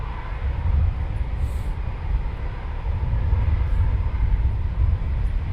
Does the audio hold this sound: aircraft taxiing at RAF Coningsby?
yes